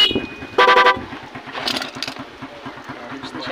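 Stock dual horn of a Honda Smash motorcycle, a loud, close two-tone blast lasting about a third of a second, with faint engine and street noise before and after.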